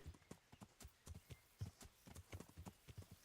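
Horse hooves clip-clopping in Kingdom Come: Deliverance, a faint, uneven series of close hoofbeats, roughly three or four per second, with no other sounds.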